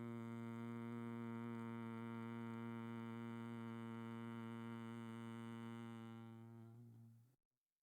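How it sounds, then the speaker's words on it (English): A long, smooth nasal hum made on a slow exhale during a restorative bedtime yoga breathing practice, holding one steady pitch for about seven seconds before fading and stopping. "on the exhale through the nose, we make this humming sound that sounds something like this"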